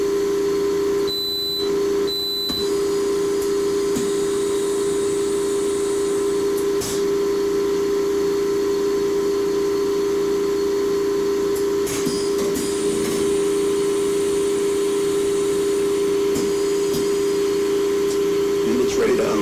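A photolithography mask aligner runs an exposure, giving a steady, loud mechanical hum with a strong constant tone throughout, plus brief beeps near the start and faint clicks and shifts later on.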